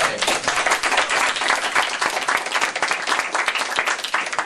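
Audience at a panel event applauding a special guest, steady dense clapping throughout at an even level, with no voices over it.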